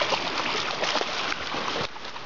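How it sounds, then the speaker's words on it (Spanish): A dog splashes through water while fetching a stick, giving steady broadband sloshing and splatter close by for about two seconds, with a sudden drop in level near the end. "Chapoteando."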